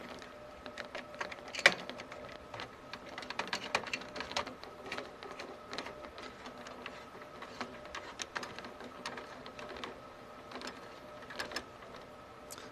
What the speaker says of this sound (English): go over my screws to make sure everything is tightened securely